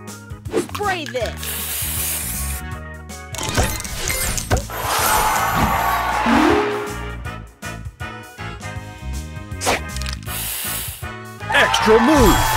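Repeated hissing spray bursts from a booster effect in the Match Masters mobile puzzle game sound loud and close amid game music, jingles and an announcer's voice.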